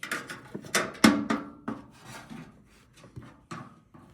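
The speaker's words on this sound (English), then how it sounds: "Let's start sanding it, and you can see," Irregular scratchy rubbing strokes against wood, close up, varying in strength with a few sharper scrapes.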